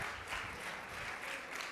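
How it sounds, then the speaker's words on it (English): Students applaud their teachers at a career day keynote, a soft, steady wash of clapping that stays fairly faint and even for its brief length, with no talking over it. "students, I would also like you to give a round of applause to your teachers who are here with you"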